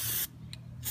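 Primer sprayed from an aerosol can onto a golf club: a hissing burst, a quick puff in the middle, and another spray starting at the end, close by with no talking.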